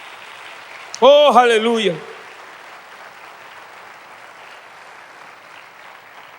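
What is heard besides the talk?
audience applauding in church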